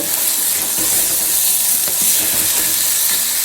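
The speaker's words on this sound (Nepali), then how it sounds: "पिठोमा भुटेको मसलालाई पनि तेलमा भुटेपछि चाहिँ मसला पनि पाक्छ" Spice masala and flour frying in hot oil, a loud continuous sizzle with occasional stirring scrapes, close up and without voices.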